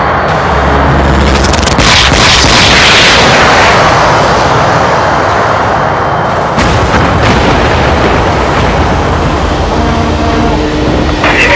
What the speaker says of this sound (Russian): Марлоу взорван! Идет взрывная волна! Приготовиться к удару!